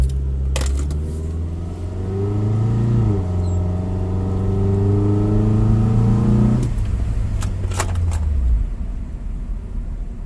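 A 1996 Honda Accord driving through a neighborhood, its steady engine hum rising and easing through gear changes before settling, heard from inside the car, moderately loud and continuous.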